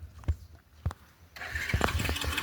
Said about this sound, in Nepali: बाइक स्टार्ट भएन